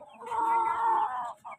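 A young chick peeps among the animals kept at a home in Barangay 128, Manila: one long, steady, high-pitched call lasting over a second, then a short second peep, close and clear, with no talking.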